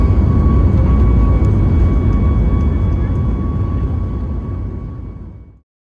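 An Alaska Airlines Boeing 737 MAX 9 roars through takeoff out of San Diego, a loud, low jet-engine rumble with a steady whine that stays constant, then fades and cuts off.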